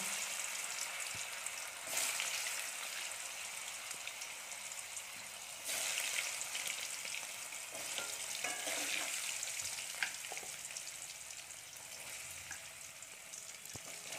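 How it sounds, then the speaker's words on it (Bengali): Paneer pieces fry in hot oil with salt and turmeric, making a dense, continuous sizzle that keeps going throughout. Occasional stirring clicks and louder surges of crackle rise through the hiss. "এবার আমরা পনিরগুলো হালকা লালচে করে একটু ভেজে নেব।"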